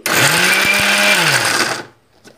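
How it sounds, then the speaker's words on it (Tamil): Chopped broad beans ground in a kitchen mixer grinder, a loud close whirring motor burst with a rising-then-falling pitch and a couple of rattling jolts, cutting off to near silence. "இப்போ நம்ம மிக்சியில் இதை அரைச்சிக்கிடுவோம்"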